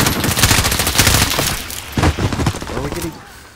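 Sniper gunfire cracks out in a video game amid a dense run of loud, close shots and impacts, with a voice talking briefly near the end.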